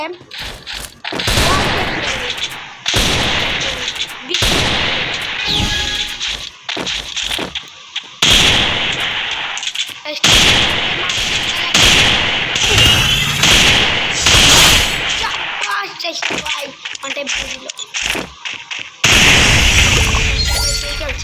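Rapid bursts of gunfire from a shooting video game, repeated volleys with short gaps, loud and dense, with a voice talking over them.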